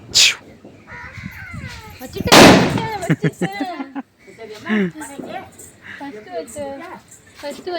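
A sharp firecracker bang bursts out once during a family Diwali celebration, amid lively outdoor chatter, with several people talking before and after it.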